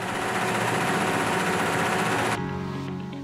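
An embroidery machine stitches a knitted pullover with a steady, dense mechanical whir that runs loud and continuous, then drops abruptly to a quieter hum near the end.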